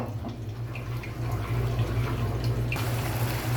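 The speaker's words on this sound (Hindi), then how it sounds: "इस वक्त जो इसमें पानी डालेंगे, पानी आप अपने हिसाब से डालें" Water pours into a pot of white lobia masala curry, a steady liquid splash that swells louder partway through and keeps running alone.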